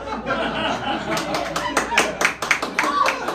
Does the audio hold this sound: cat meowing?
no